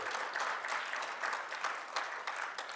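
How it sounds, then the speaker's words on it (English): Steady applause from a hacker conference audience, a dense wash of clapping that holds evenly throughout. "Everybody applaud for David."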